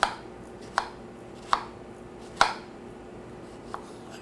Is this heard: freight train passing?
no